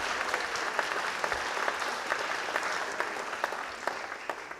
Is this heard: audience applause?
yes